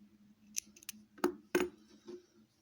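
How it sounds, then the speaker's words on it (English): Scissors snip knitted yarn on a machine-knitted hair bow: a couple of light clicks, then two crisp close snips in quick succession and a softer one after, in a quiet room. "And now I can snip it back here."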